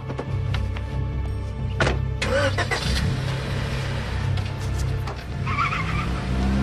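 A car's engine revs hard under steady low rumble, with a brief tire squeal and skid as it pulls away and drives off, loud and close throughout.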